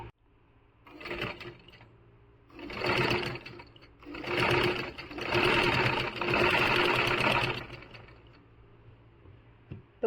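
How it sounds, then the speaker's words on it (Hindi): A simple sewing machine stitches around a kurta neck in several bursts of fast mechanical whirring, separated by short pauses, close and fairly loud. "तो मैं लगा लेती हूँ अब सिलाई इसकी"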